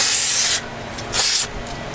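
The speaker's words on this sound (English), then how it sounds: "Make sure you spray the camera with brake clean always." Aerosol brake cleaner sprayed during brake caliper rebuilding, two loud close hissing bursts, the first long and the second shorter, separated by a brief lull.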